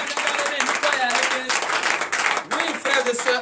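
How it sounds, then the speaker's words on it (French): Morning prayer congregation in Benin claps and applauds in bursts, with voices and talk mixed in over the clapping. "je vous demande encore d'applaudir très très fort"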